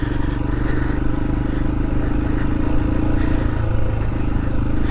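A 2020 Royal Enfield Himalayan rides off-road, its engine a steady, loud low drone that runs continuously close by, with faint clatter over the top and no talking.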